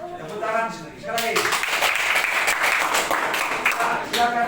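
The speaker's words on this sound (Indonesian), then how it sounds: "tepuk tangan sekali lagi" Junior high school students clap again in a classroom, a full round of loud, dense applause that swells after a spoken voice at the start and carries on steadily, with a voice heard over the clapping toward the end.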